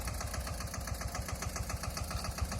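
A Massey 5118 tractor with an 18 hp engine idles close by, a steady, low rhythmic chugging with evenly spaced pulses and no other sounds over it.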